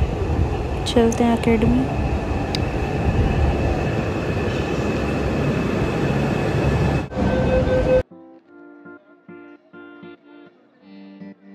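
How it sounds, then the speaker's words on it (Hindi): A metro train roars and hums steadily into the station, with squealing brake tones early on, then cuts off; a person speaks briefly afterward. "यहाँ पे आ गई अब हमारी मेट्रो"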